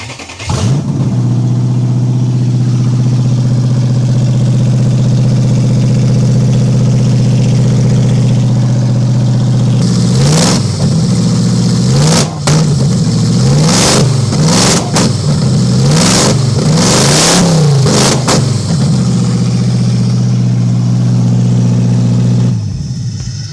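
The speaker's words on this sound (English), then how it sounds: "I start this car without a muffler because it's so loud" A racecar engine with no muffler starts and idles with a loud, rough drone, then blasts through a series of sharp, repeated revs before settling back to idle, close up and with no talking.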